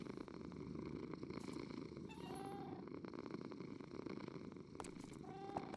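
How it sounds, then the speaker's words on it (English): Mimi the cat purrs steadily and close by, a continuous low rumbling throb that runs unbroken throughout, with a few faint higher chirps or squeaks over it. "Oh, she purring."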